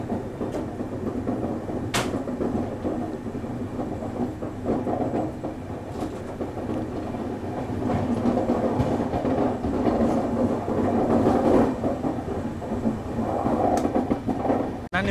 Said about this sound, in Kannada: ಸೊ ನಮ್ಮ ಟ್ರೈನ್ ಇವಾಗ ಹೊರಟ್ಬಿಟ್ಟಿದೆ ಬಂಗಾರಪೇಟೆ ಜಂಕ್ಷನಿಂದ